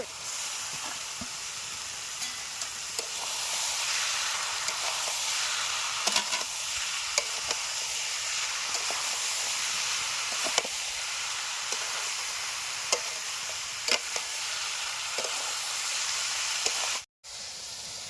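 Chopped chicken meat sizzles with tomatoes in a pan over a village cooking fire, a close, steady frying hiss with faint stirring scrapes and clicks and no talking.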